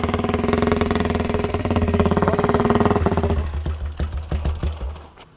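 A large motorcycle engine roars close by as it is revved hard and held high, then drops back to a lumpy, pulsing idle with rhythmic throbs that fade at the end.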